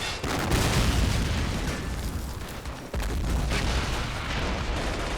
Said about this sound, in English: Alright, our mortars are ready to rock.